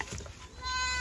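A goat bleats with a wavering, nasal cry near the end, after a stretch of background chatter and rustling, in a village setting.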